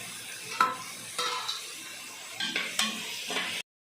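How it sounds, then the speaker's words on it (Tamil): Ginger garlic paste sautéing in a pan with garam masala and chili powder for a country chicken biryani, a steady sizzle broken by several scraping stirs of a spoon, close by with no talk. "பச்சை வாசம் போகிற அளவுக்கு நல்லா வதக்கி விட்டுக்கலாம்."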